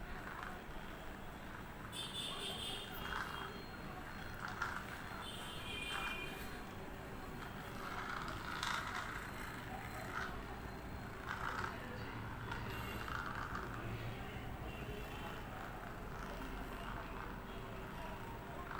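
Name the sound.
electric massage machine running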